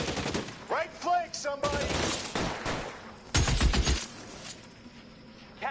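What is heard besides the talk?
gunfire in a shooter video game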